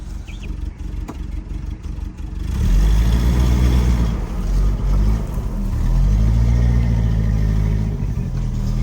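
A 1977 Toyota motorhome's engine, its clutch slightly burnt, labors and revs steadily as it drives out of a patch of dirt. The drone rises after a quieter opening, then swells again near the end, loud and close, with no talking.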